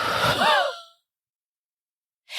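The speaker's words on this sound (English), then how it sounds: "take a big breath in and then blow the breath out as entirely as you can" A person breathes out forcefully and fully, pushing the breath out entirely with a harsh, airy rush that fades after about a second. Silence follows, then another breath begins.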